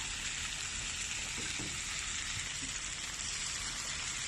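Tomato paste frying in a pan, a dense, continuous close sizzle with a few faint scraping stirs mixed in, steady in loudness and free of talk.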